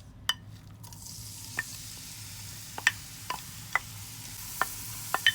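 Onion sautés in a hot pan, a soft, even sizzle carried underneath a run of sharp spoon taps and light scrapes against the pan, close and spaced irregularly.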